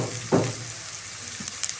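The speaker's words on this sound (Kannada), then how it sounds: "ಸ್ವಲ್ಪ ಬೆಳ್ಳುಳ್ಳಿ, ಸ್ವಲ್ಪ ಶುಂಠಿ ಹಾಕ್ಕೊತಿದ್ದೀನಿ. ಹಾಕಿ ಚೆನ್ನಾಗಿ ಫ್ರೈ ಆಗಲಿ." Onion, garlic and ginger frying in a pan for paneer butter masala, a soft steady sizzle with one brief louder stir near the start and faint clinks later, no talking.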